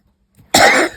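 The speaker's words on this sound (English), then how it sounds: "this cough is still hanging in there" One sharp, close cough bursts out after a brief faint stir, from someone with a lingering cold during an indoor paper-crafting session, with no talk around it.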